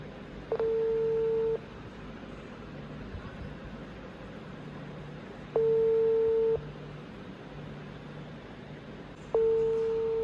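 An outgoing phone call's ringing tone on speakerphone repeats three times, each a steady beep about a second long separated by long gaps, over a faint background hum.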